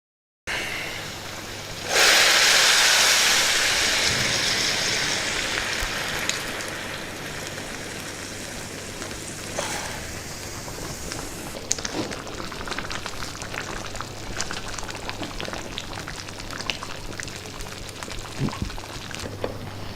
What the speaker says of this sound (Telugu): పోపు అయిపోయింది ఇప్పుడు ఈ పోపులో పొన్నగంటి పప్పు వేసుకుంటున్నాను